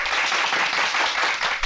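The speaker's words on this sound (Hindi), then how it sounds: "ताली।" A crowd of people applauding at a political rally, dense continuous clapping that stays loud and even for the whole short stretch, with no voices over it.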